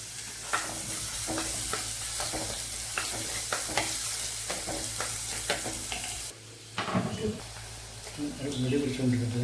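Sliced shallots sizzle and fry in hot oil for a fish curry, with a steady crackle broken by scraping stirs of a spoon in the pan, while a voice talks over the cooking near its end.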